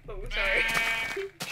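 Sheep in the Minecraft video game bleat in a few drawn-out, wavering calls, fairly close and clear, with a voice talking over them.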